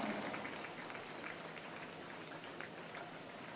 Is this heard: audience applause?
yes